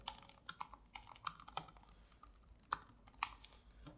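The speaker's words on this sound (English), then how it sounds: "So I'll just type in my details quick here." Quiet clicking keystrokes on a computer keyboard tap out in an irregular typing rhythm, with a few sharper key presses standing out, close and alone.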